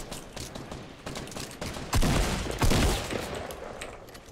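Fortnite gunfire, a run of rapid shots growing louder with two heavy close bursts in the middle, then tailing off into fainter shooting.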